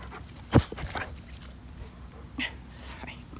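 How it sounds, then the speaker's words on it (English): Indoor dogs give a sharp bark close by, then a few quieter yips and whimpers, while someone speaks softly underneath. "sorry, my dogs"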